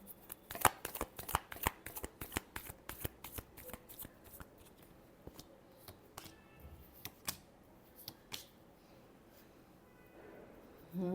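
Tarot cards are shuffled close up in a quick run of crisp riffling snaps, dense at first, then thinning into sparser flicks toward the end.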